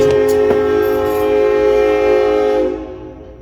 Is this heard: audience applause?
no